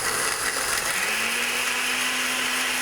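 An old blender purees ingredients for a medieval-style ambrosino chicken dish, running as a loud, steady motor whir close up, with its pitch rising slightly partway through.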